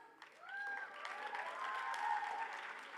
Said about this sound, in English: So females, can we cheer up for Lalit Arora once?